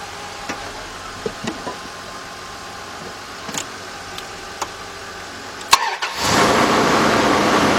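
A few scattered clicks and knocks, then a 1999 Dodge Dakota Sport's replacement 3.9 V6 engine cranks and catches, settling into a loud, steady idle close by.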